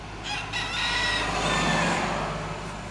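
Loose bantam chickens beside town buildings give a crow and clucking calls at moderate distance over a steady background hum of street noise.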